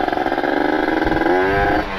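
A ported Kawasaki Ninja RR two-stroke with an ABRT20 galvanized exhaust and Stinger 26 silencer revs up in a raspy, buzzing roar, rising in pitch and then dropping off near the end, loud and close.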